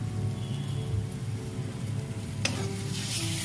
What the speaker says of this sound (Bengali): এর মধ্যে আরেকটু জল দিয়ে আমি এটাকে আরেকটু ভাজা ভাজা করে নিচ্ছি মশলাটাকে